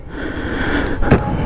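A hiker breathes hard after climbing a steep trail to a waterfall resort, with a close, heavy gasp about a second in against a background of outdoor noise.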